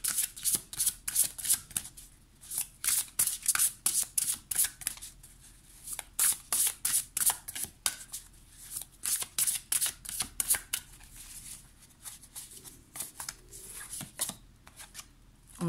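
Tarot cards from the Beautiful Creature Tarot deck being shuffled by hand, a long run of quick, crisp riffling bursts close up, repeating in an uneven rhythm with brief pauses and no talking.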